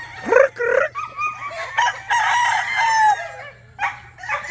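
Farm chickens and a rooster close by, with loud repeated clucks and a drawn-out crow, several calls overlapping over a low steady hum.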